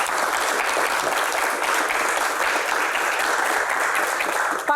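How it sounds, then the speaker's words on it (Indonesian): A large audience applauds for Dato Sri Tahir at a talk-show event, a dense, steady wash of clapping that holds evenly from start to finish without talking over it. "Kita berikan tepuk tangan yang paling meriah untuk Dato Sri Tahir."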